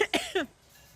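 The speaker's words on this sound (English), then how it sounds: "Smoker's cough." A woman who has never smoked fakes a smoker's cough up close: three quick, harsh, voiced coughs, then silence.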